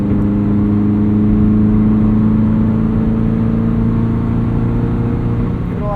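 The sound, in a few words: Subaru BRZ with header accelerating in sixth gear to pass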